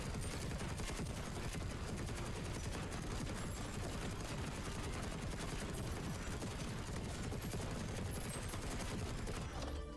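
A Gatling gun in Space Engineers 2 fires continuously, a dense, unbroken stream of rapid shots at steady loudness with no pauses, heard alone without voices.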